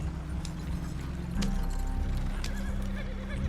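In Red Dead Redemption 2, horse hooves clip-clop steadily along with a cart rolling beneath them, and a horse whinnies briefly partway through, over a constant low rumble.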